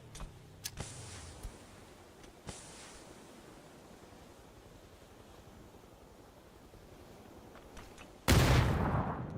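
A grenade detonates in PUBG esports scrim play, a sudden loud broadband blast arriving near the end after a stretch of quieter ambient game noise and a few faint earlier pops.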